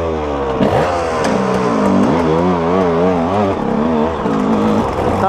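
A motorcycle engine revs repeatedly, rising and falling in pitch in loud close bursts, then settles back toward idle.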